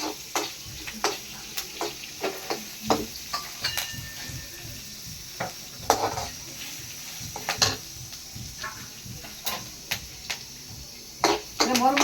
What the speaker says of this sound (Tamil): பருப்பு மிளகாத்தான் கருவேப்பில்லை இந்த மாதிரி வதக்கிக்கிறேன்